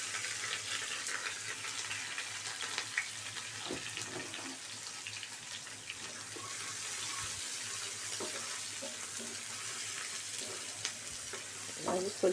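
Chopped onion and curry leaves dropped into a hot mustard-cumin tempering, sizzling and crackling steadily at close range with occasional stirring clinks, no talking.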